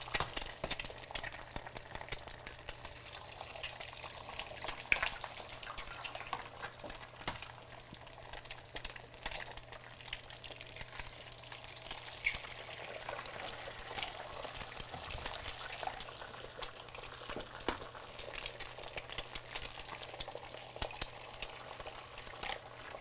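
Eggs fry in a pan on the stove for a croque madame, with a soft, continuous sizzle and scattered crackles and pops throughout, steady and fairly quiet with no talking.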